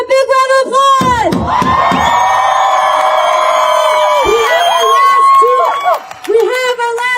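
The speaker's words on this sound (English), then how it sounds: "Give him a big round of applause." A loud crowd at a pro-Palestine rally in St. Paul, Minnesota cheers, whoops and shouts together in a sustained roar lasting several seconds, with voices rising above the din.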